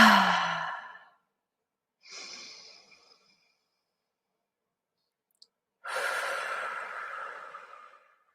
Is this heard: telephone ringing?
no